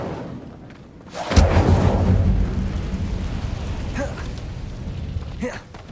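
A fire spell cast in the game Hogwarts Legacy, heard as a sudden loud whoosh of roaring flame that swells and rumbles for several seconds before fading, with a short crackle near the end.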